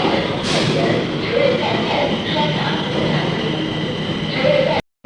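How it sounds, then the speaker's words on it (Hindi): A subway train pulls into a Chinese metro station with a loud, steady rumble and a high mechanical whine, while voices are heard faintly beneath it, before the sound cuts off abruptly. "फिर ट्रेन आ गई है।"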